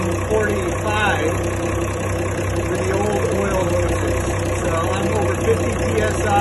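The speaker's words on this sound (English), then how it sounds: "With the new oil hoses on the port engine at idle and cold." A Ford Lehman 120 diesel, the port engine of a trawler, idles cold after an oil hose upgrade, giving a steady, even low hum and drone that stays at a constant level throughout.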